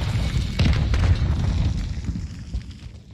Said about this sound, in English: Sending a frag out!